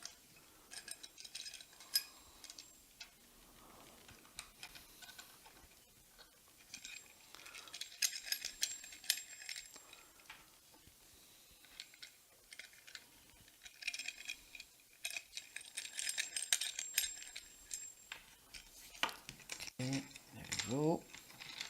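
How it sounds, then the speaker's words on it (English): Microphone boom arm clamp being assembled, with scattered metallic clicks, rattles and small clinks of hardware at close range, some bursts louder, alongside faint voice traces. "let me start with the clamp"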